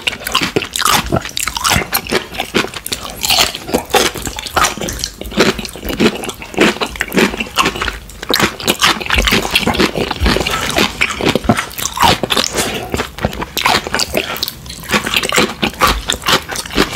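Someone chews crunchy spicy radish kimchi with cooked potatoes and chicken, making a steady close-up stream of wet crunches and squishy bites throughout.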